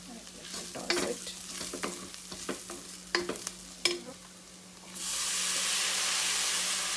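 Onions, tomatoes and red chili powder fry in a pan for Karnataka-style tomato rice, with several sharp stirring scrapes over a steady sizzle that swells into a loud, continuous hiss toward the end.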